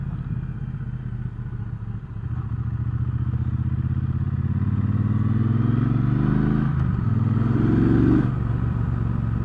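A 2019 Triumph Speedmaster motorcycle engine revs up close, its pitch climbing steadily through the gears with a brief dip at a shift, loud and continuous.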